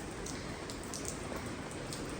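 Heavy rain falls in a steady, even hiss with scattered drop patters, continuous and fairly faint, with no other sound over it.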